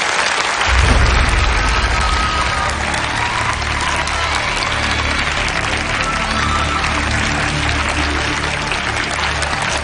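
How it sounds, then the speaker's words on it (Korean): Loud, dense audience applause fills an award ceremony hall as the chairwoman is called to centre stage to announce the judges' results, starting abruptly and holding steady without any talking. "박수 부탁드리겠습니다"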